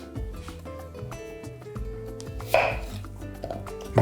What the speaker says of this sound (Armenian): մանր կտրատում և լցնում ենք ամանի մեջ։